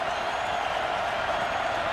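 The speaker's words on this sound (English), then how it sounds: "Crowd comes to its feet on 3rd down and 8." Stadium crowd at a college football game, Miami at Georgia Tech, roaring steadily as fans rise on third down, a dense, continuous wash of cheering and applause with no break across the moment.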